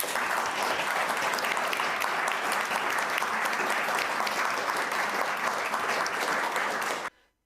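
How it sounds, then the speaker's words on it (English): Sustained applause from a political gathering, dense and loud, a steady roar of many hands clapping for several seconds before cutting off abruptly at the end. "she's getting that round of applause from this little neoliberal gathering"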